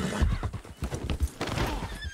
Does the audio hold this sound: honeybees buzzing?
no